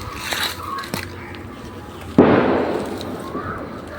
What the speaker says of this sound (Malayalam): പടക്കം പൊട്ടിക്കുന്നത് ഭയങ്കര പേടിയാ